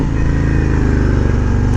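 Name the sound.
Harley Davidson Road Glide Special motorcycle engine riding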